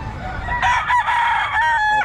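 A rooster crows loudly and close among gamecocks on a farm, one strained, drawn-out call with a few clucks from other birds around it.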